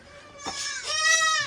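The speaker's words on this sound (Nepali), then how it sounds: "फेरि आएछ त्यो बाख्रा" A goat bleats close by in a single loud, wavering call that rises and stretches out, alone without talk.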